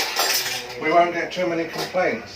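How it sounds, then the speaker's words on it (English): Metal cutlery and dishes clatter and clink up close as they are put away, while a person speaks over the noise. "So I'll put my cutlery away. Sorry about the noise"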